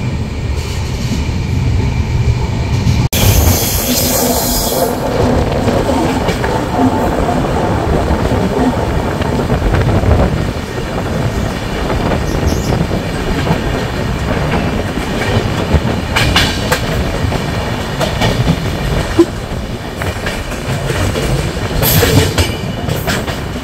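The 15777 Tourist Express with a Vistadome coach, running near 75 km/h past Gulma station between New Jalpaiguri and Alipurduar, gives a loud, continuous rail rumble with clattering wheel noise and brief bursts of rattling throughout.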